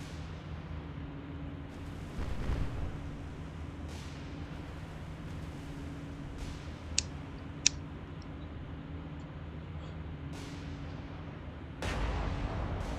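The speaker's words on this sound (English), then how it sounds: "A full broadside towards him" Warship guns fire a broadside in the naval combat game War on the Sea. Several deep, distant booms rumble out at intervals over a low steady hum, with a couple of sharp clicks between them.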